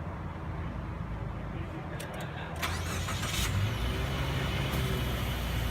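A Subaru XV Crosstrek engine cranks and starts, followed by a steady idle rumble, recorded from inside the car with a few clicks before ignition.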